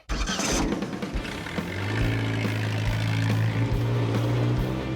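A vintage Ford custom car with a transplanted engine catches after a brief noisy start and settles into a loud, steady, low droning run.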